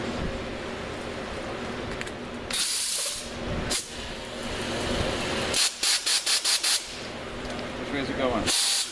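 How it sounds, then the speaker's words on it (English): Pneumatic air ratchet working on front suspension bolts, its body leaking air, giving loud broadband hissing bursts and a rapid series of short ratcheting pulses near the end, with talk running underneath. "Now I can use the air ratchet."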